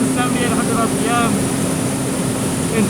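A 2022 Porsche 718 Boxster GTS 4.0 with a naturally aspirated engine, driven hard on a track, produces a loud, steady, close drone mixed with heavy wind rush, and brief rising tones swell out of the noise.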